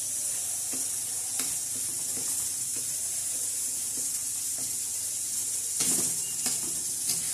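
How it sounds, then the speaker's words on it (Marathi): Ground masala fries in a pan, giving a constant bright hissing sizzle broken by repeated light taps and scrapes of a spoon as it is stirred, close up with no voices. "किंवा मसाला असा चांगला परतून घ्यायचा असा"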